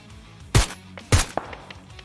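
Two loud, sharp gunshots about half a second apart in the video game PUBG Battlegrounds, followed by a fainter shot and small clicks; no one talks.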